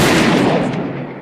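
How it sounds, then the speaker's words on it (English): A single loud gunshot from a gun fired out a window into a dark night forest, a sharp broadband blast with a short decaying tail and no voices. "The gun went off and lit up everything for a moment."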